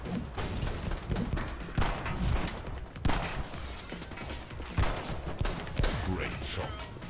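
Dense gunfire in The Club on Xbox 360: a steady rattle of shots with heavier thumps around second 2, 3 and 5, loud and continuous throughout, with bursts of excited speech mixed in.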